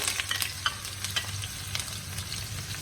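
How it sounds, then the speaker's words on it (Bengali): Chopped onion sizzles and crackles steadily in hot white cooking oil, with occasional stirring scrapes in a close, continuous frying hiss. "আমি এখন এই পেঁয়াজ কুচিটা তেলের মধ্যে, সাদা তেল নিয়েছি পরিমাণ মতো, তার মধ্যে আমি দিয়ে দিলাম বন্ধুরা"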